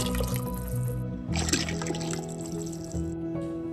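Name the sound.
broth being poured back into the pot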